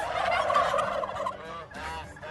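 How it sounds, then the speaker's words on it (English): Several pasture-raised turkeys gobble in a noisy, warbling burst, followed by a shorter second round of gobbling nearby. "noisy turkeys"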